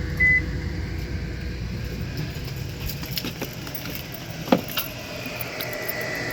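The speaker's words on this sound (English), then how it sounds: "when you're running the microwave, you want to be able to cook some food" A microwave oven powered by a 3000W inverter hums steadily with a constant low drone, close by, with faint clicks and a brief clink partway through.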